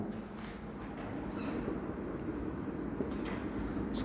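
A math formula written by hand, likely pen on paper, gives soft continuous scratching and scribbling strokes at close range with faint rustles in between and no talking.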